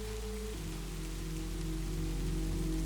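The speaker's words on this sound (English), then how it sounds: "I hope the sound of the rain doesn't linger too long after this one ends" Rain falls steadily in a continuous even hiss of drops on a surface, with a low hum running beneath it and no voices.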